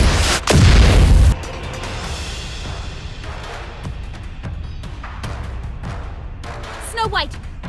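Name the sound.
artillery explosions in Nikke Goddess of Victory video game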